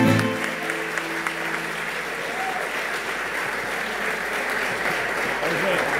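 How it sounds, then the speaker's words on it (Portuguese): Dense, steady audience applause at a festival in Remédios, Santa Cruz, Lagoa, a broad wash of many hands clapping together, sustained and fairly loud throughout, with a brief voice or tone at the very start. "vai palmas pro"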